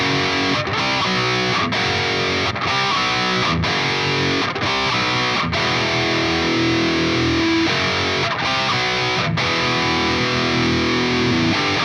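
Loud distorted electric guitar chugs through a power chord chorus riff, chords ringing out between short rhythmic stops, with no voices.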